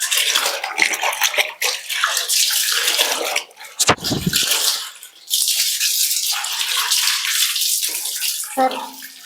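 Water gushes and splashes into a tub while clothes are washed by hand, a loud continuous pour broken by brief pauses and sloshing, with a faint clatter near the end.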